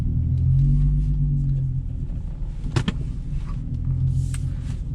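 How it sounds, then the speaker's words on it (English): An Infiniti G35 car driving, its engine a steady low rumble from inside the cabin with a couple of brief clicks and knocks and no talking. "I just like driving this car so much."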